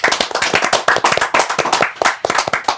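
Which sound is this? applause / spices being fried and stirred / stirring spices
applause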